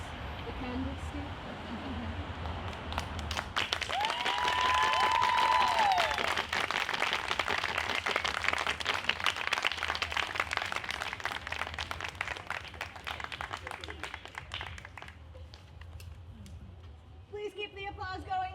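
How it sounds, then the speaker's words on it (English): An audience at a stage combat murder mystery show applauds, dense sustained clapping that swells and holds for many seconds before thinning, with a few cheers and a voice speaking over it near the end. "Please keep the applause going for our victim, Daniel Wilcoma and Shelby Ranger."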